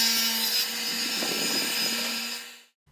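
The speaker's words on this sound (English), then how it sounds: "To start, I rip the MDF to match the template width." A saw rips through medium density fiberboard in a short, steady buzzing cut that runs close and loud, then stops abruptly into silence.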